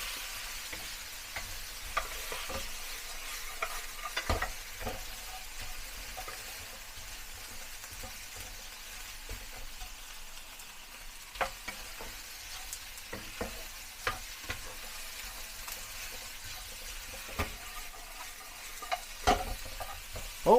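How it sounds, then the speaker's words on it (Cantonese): Minced garlic stir-fried in a wok, a soft continuous sizzle marked by scattered ticks and scrapes from stirring, fairly faint and with no talking. "蒜蓉，因為蒜蓉都要爆香㗎。"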